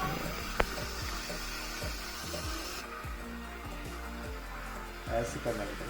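DeLonghi Magnifica S steam wand texturing milk in a pitcher, a steady close hiss and gurgle running the whole time without a break.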